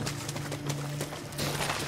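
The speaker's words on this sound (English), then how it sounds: "Look, there's some horses right there for us." Horse hooves clip-clop in the video game Far Cry 6, a steady rhythmic patter with no gaps, at moderate loudness over a low constant hum.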